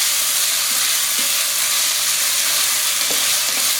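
Leftover pork stir-frying in a hot pan, a loud, dense, unbroken sizzle close up, with faint utensil taps beneath the hiss.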